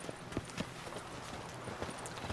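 Roach, a horse in The Witcher 3 video game, walks with clear clip-clopping hoofbeats. The steps fall in an uneven rhythm at a moderate distance against a faint ambient background.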